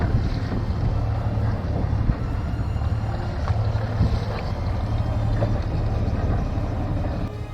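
A small sailboat under sail in light wind moves through the water, with wind buffeting the microphone, soft water sloshing against the hull and occasional creaks, and no voices.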